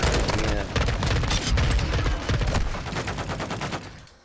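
Rapid automatic gunfire rattles through a match in Call of Duty: Modern Warfare, dense overlapping shots in steady bursts that are loud and close, continuing almost without pause before tapering off at the end.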